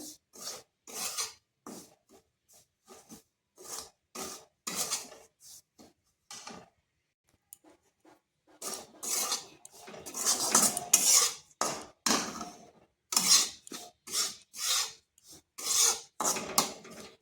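Rice flour being lightly dry-fried in a pan, with repeated scraping and clinking of a metal spoon against the pan in irregular bursts, close and fairly loud, pausing briefly before resuming more vigorously.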